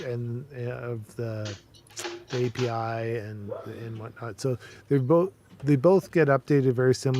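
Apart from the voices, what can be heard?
No distinct noise like a dog, phone or traffic.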